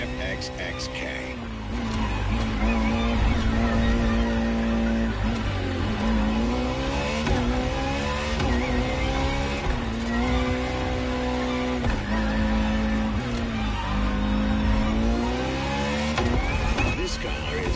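A Ferrari FXX K supercar in The Crew Motorfest racing game roars through gear changes, its engine pitch rising and falling repeatedly with occasional tire squeal, loud and continuous under a talking voice.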